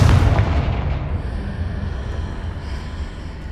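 A Confringo fire spell blasts a blocking pillar in the video game Hogwarts Legacy. One loud, deep boom bursts out and then rumbles away for several seconds.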